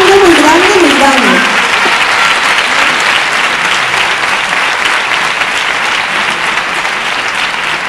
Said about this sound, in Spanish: Córdoba te va a coger con un aplauso muy grande, muy grande, muy grande